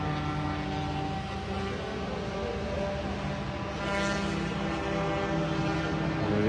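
A Honda stock racing scooter runs on the Pembrey circuit. Its engine gives a steady droning whine, moderately far off and fairly faint, with a slight swell near the end.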